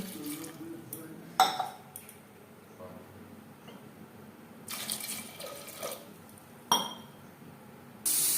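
Water poured from a tap or vessel onto peeled jackfruit seeds that have soaked for about an hour, coming in several short splashing bursts with quieter gaps between them.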